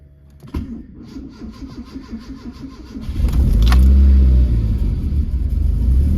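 A Cosworth project car engine cranks with a rapid rhythmic starter chatter, then catches and fires into a loud, deep, close rumbling idle that holds steady to the end.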